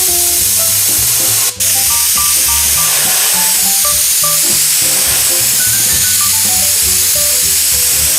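An airbrush sprays a thin coat of paint in a steady loud hiss that runs throughout, with a brief break, while music plays underneath.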